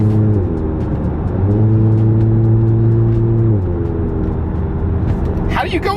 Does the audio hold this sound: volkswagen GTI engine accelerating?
yes